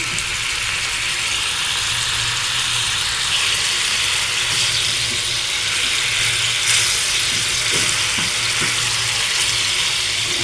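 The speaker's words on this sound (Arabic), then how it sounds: "الزبدة ساحت" Butter melts and sizzles in a pan for fava beans in the Luxor style, a constant bright frying crackle close up, with faint clinks of the pan toward the end.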